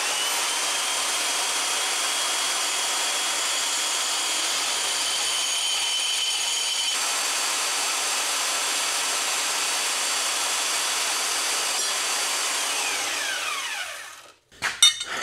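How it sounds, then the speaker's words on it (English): A power saw roughs out wooden brackets in one steady, continuous cut lasting most of the stretch, loud and close, then winds down and stops near the end. "So I'm gonna rough this out on the saw real quick."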